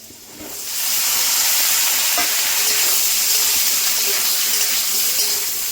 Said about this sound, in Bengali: আলুটা ভেজে নিয়েছি, ঝিঙে দিয়ে দেবো।